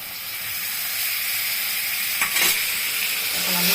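Whisked sour yogurt hisses and steams in a hot pan with pointed gourd, a loud continuous sizzle with a couple of brief stirring scrapes partway through.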